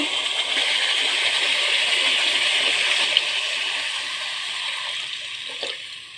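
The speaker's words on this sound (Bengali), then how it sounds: "এখন কিছুটা পানি অ্যাড করব" A continuous rush of water poured into a pan of potatoes cooking for a pangas fish curry, steady and close, with a small clink near the end.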